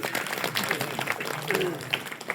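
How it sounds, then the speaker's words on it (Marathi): Scattered clapping from a kirtan audience, a mix of quick individual claps over a lively crowd murmur, fairly faint overall. "एकदा जोरदार टाळी वाजवा तुमच्यासाठी"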